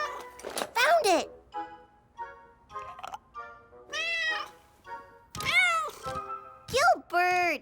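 A cartoon toy cat meows repeatedly in high, bending, drawn-out cries separated by short pauses, clear and close, with the loudest calls near the start and end.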